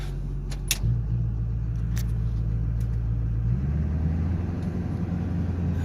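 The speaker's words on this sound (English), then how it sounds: "Barely hear the engine." An LB7 Duramax diesel truck engine running quietly with a low, steady rumble heard from inside the cab, with a few light clicks and a slight shift in the drone partway through.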